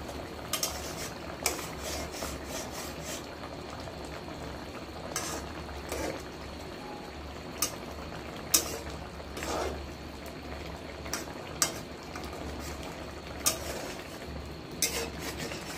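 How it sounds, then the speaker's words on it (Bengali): Food is stirred in a pot during cooking of a hilsa fish curry with coconut paste, with soft continuous scraping and occasional sharp clinks of a utensil against the pot over a low background hum. "আমি ভালো করিয়ে গুলিয়ে লই, গুলিয়ে ভালো করে দিয়ে দিই।"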